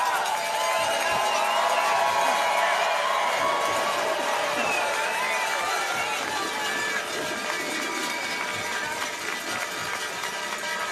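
A crowd cheers loudly and steadily in a biathlon stadium in Ostersund, Sweden, during a men's relay race, with a dense roar that holds across the whole stretch and an announcer speaking over it.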